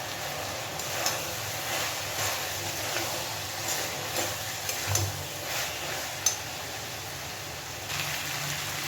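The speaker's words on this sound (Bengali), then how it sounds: "খুব ভালোভাবে এটাকে একটু ভেজে নিতে হবে" Potatoes and onions frying steadily in a pan with curry leaves, a continuous loud sizzle with occasional stirring scrapes and clinks, no voices.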